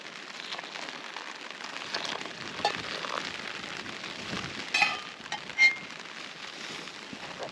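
Rain patters steadily on a tent pitched on a fell at Rossett Pike, a dense, close hiss of drops with a few sharper, louder taps near the end and no talking.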